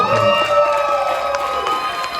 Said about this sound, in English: give another round of applause for the lady that got him down here